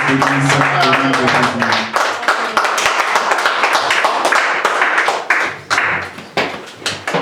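A church congregation claps and cheers in praise during a French-language service, dense rapid clapping filling the room with voices raised over it, loud and close throughout.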